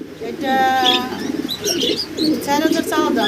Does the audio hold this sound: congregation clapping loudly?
no